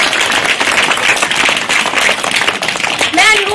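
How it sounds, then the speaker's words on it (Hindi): An audience at a foundation-organised event applauds to welcome a team, dense steady clapping filling the room, with a voice breaking in near the end. "तालियों के साथ उनका स्वागत करते हैं"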